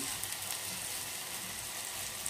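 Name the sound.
tomato sauce with powder and water simmering in pan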